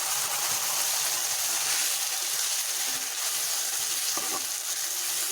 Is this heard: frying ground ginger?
yes